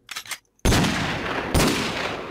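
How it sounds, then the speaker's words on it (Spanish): A golden Desert Eagle pistol from Minecraft's Flan's Mod fires two loud, booming shots about a second apart, each with a long ringing tail, after a short burst of quieter sounds. "La pistola mítica, una Desert Eagle dorada"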